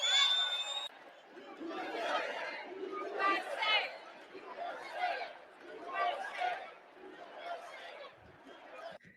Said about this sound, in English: That is such an incredible crowd.